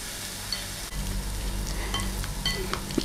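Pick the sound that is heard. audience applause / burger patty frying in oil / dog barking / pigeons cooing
burger patty frying in oil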